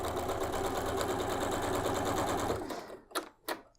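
A sewing machine stitches a quilt block for a big Churn Dash quilt in a steady fast mechanical whir for about two and a half seconds, then stops, followed by two brief clicks in the quiet.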